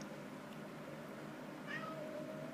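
A pet cat gives a single short, faint meow in a quiet indoor room, heard alone over low background hum.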